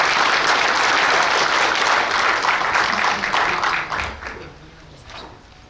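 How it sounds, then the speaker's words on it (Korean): Audience applause welcoming a speaker at a lecture on presidential impeachment and liberal democracy, a dense burst of clapping from a large crowd that stays steady, then thins and fades out over the last two seconds. "큰 박수 부탁드리겠습니다."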